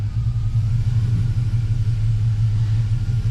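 A Chevrolet Silverado pickup on a test drive after a 4L80e transmission swap gives a loud, steady low engine rumble heard close from inside, with no talking.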